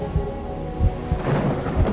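A storm-trailer sound effect of steady heavy rain, with several deep rumbles of thunder rolling underneath, loud and continuous with no voices.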